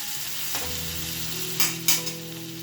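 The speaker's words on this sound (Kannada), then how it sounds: "ಆಮೇಲೆ ಇದನ್ನು ಚೆನ್ನಾಗಿ ಹುರ್ಕೊಂಡು ಬರಬೇಕು." Tomatoes, garlic and green chillies fry in oil with a steady bright sizzle, while a spoon scrapes and stirs through them, two sharper scrapes standing out near the end, close up with no talking.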